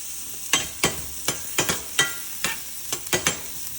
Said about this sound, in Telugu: లైట్గా ఫ్రై చేస్తే సరిపోతుంది